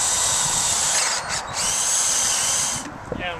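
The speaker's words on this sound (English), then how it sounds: "I'm now going to drill the hole through" Power drill boring a hole through a wooden divider board of a three-bin compost unit, a loud steady whine that dips briefly mid-way and stops near the end.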